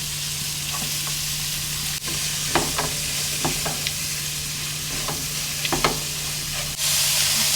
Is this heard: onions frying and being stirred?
yes